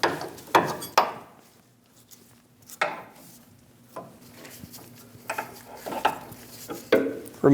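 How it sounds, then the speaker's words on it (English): A large 1 3/8 wrench works a full tie rod assembly off the center link of a 2001-2006 Chevrolet Silverado 2500 HD, giving close, scattered metallic clanks and ratchet-like clicks separated by quiet pauses. "Using a 1 3/8 wrench or a large set of pliers, we're going to remove our full tie rod assembly from our center link."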